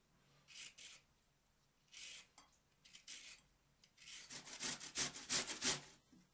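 A single carrot being washed and peeled in a home kitchen, giving intermittent close scraping and rubbing strokes in short bursts, busier and louder toward the end, with quiet gaps between and no talking.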